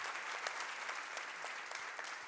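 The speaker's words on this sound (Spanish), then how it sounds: "Un aplauso para Luis." Applause from an audience at a church community gathering, greeting Luis, who represents the parents; steady, dense clapping from a crowd fills the whole stretch without pause.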